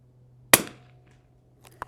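A single sharp report from a Winchester 52B target rifle firing at 100 yards from a rest, one crisp crack with a short decay, followed by faint small clicks.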